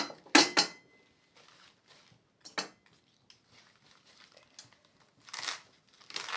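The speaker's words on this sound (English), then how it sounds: "I'm going to chop up the plantain" Plantain leaves being chopped for a salve, giving a few sharp, crisp knife cuts near the start and sparser crunchy cuts and rustles spread across the rest, close up and with no talking.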